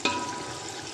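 Peas sizzling in a hot pan for matar pulao, a steady, dense frying hiss that holds close and even throughout with no voices.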